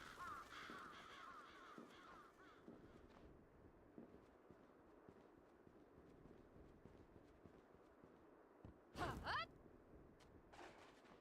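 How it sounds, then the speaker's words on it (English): Crows caw in the game Bloodstained: Ritual of the Night, faint scattered calls over a quiet ambient bed, with one louder burst of cawing near the end. "those crows are not enemies."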